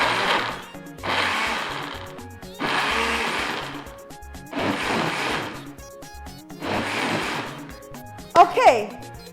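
A blender pulsing peppers with a little water whirs in five short bursts with brief pauses between, a steady pulsing rhythm, followed by a quick clatter at the end.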